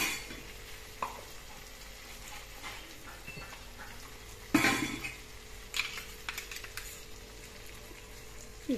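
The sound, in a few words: stirring white mustard paste with okra and potato in a pan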